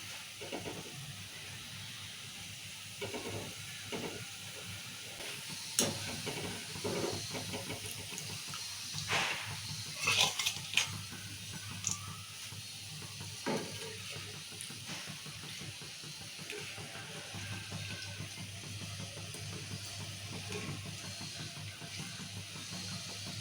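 Boondi fries in hot oil with a steady close sizzling hiss and scattered crackles and pops, running continuously at a fairly low level.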